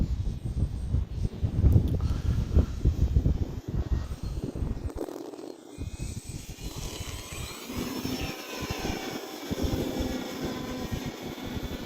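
A Hobbyzone Carbon Cub S 2 1.3 m RC airplane flying outdoors with its electric motor running, a loud, wind-buffeted whine and rumble that dips and returns as it passes, with gusty wind noise throughout.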